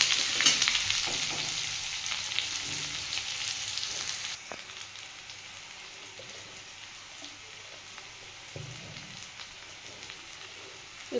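Onion and garlic fry in a pan for a ripe pointed gourd mash, a steady hiss that is loud at first, then drops to a quieter sizzle with scattered pops and light stirring.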